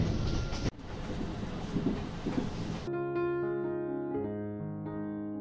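A new electric commuter train in Latvia rumbles and rattles loudly for a few seconds, then the ride noise cuts away and a sustained electronic tonal melody plays alone.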